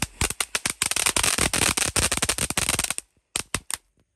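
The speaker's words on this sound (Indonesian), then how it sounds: "Malam hari menyalakan mercon seru sekali" Firecrackers set off at night during Ramadan, a rapid string of sharp, loud pops for about three seconds, then a pause and a few last scattered bangs close by.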